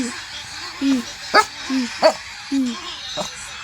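A playful pet dog named Champurado gives a few short, high yips and whimpers between bursts of nearby talking, close and fairly loud.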